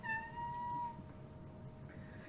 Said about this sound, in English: you're meowing. You're meowing.